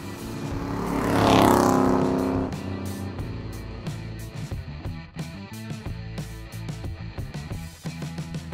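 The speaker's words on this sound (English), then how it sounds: "The 650 CFM Edelbrock carburetor's feeding this bad boy, getting about 300 horsepower out of it." A 1965 Dodge Coronet 440 V8 fed by a 650 CFM Edelbrock carburetor, making about 300 horsepower, swells in a loud rev and then settles into a lumpy, throbbing idle with sharp blips of the throttle.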